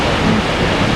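A waterfall in Norway roars as a dense, loud, continuous rush of falling water, close and unbroken for a brief moment.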